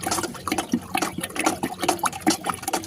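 A spoon stirs medicine into about six liters of water in a container, making rhythmic swishing and sloshing with faint clinks, repeated strokes close by and fairly loud.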